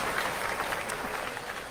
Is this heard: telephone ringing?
no